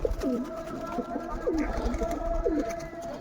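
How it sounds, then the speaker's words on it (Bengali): A ghughu dove kept among pet pigeons coos three times in a steady, evenly spaced series, close and clear over a low continuous background hum. "এই হচ্ছে আমার ঘুঘু পাখি"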